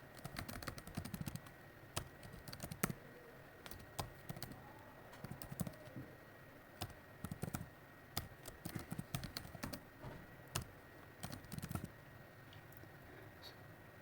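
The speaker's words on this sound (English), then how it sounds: "For that we will be using svn command and typing the GitHub address of that particular template." Someone types a command on a computer keyboard, quiet irregular bursts of key clicks with short pauses, close by and without speech.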